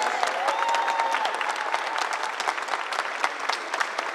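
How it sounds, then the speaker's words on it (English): A garden awards reception audience gives a round of applause honoring Flossie's 25 years, many hands clapping in a steady, moderately distant patter with a brief whistle-like tone early on. "Let's give Flossie a big round of applause for 25 years"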